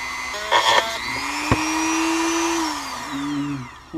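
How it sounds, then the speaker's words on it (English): A Dremel rotary tool sands a Leecraft zero clearance insert, a close, loud, high steady whine that holds its pitch, then dips and shifts as the pad bites, with a sharp knock partway through. "So I'm going to do a little bit of sanding."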